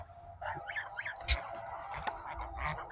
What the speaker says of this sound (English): Sorry, geese are wondering what's happening.